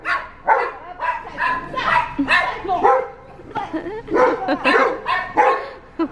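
A Golden Retriever gives a run of repeated barks and yips, close and fairly loud, in quick bursts across several seconds with a whiny edge between them.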